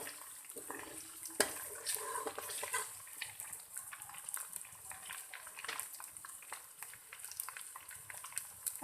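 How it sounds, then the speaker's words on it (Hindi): Ginger and garlic frying in a pan for a daal mash recipe give a faint, steady sizzle with scattered small crackles throughout, fairly quiet and with no talking. "अदरक लहसुन को अच्छे से फ्राई करेंगे।"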